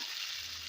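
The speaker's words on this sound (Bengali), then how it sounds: "সবজিগুলো ভালোভাবে ভেজে নেব" Vegetables fry in hot oil with a faint, brief, steady sizzle.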